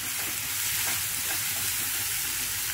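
Ginger garlic paste and green chilies frying in hot oil, a loud dense close sizzle that holds steady and unbroken throughout, with no voices over it.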